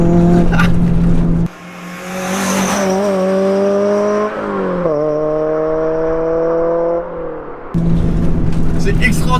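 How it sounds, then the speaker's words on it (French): A Renault Clio V6 engine revs hard toward 7000 rpm from inside the car, a loud rising harmonic wail that climbs, dips on a gear change, then climbs again, with someone talking over it. "Quand on approche les 6000 tours et qu'il reste juste 1500 tours à aller grappiller, ça fait un bordel dans la voiture"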